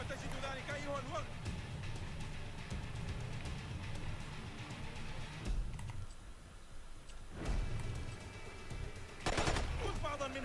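Intermittent gunshots and automatic fire in the stealth video game Splinter Cell: Conviction, fairly faint and mixed with game sounds and voices talking, with a sharper burst near the end.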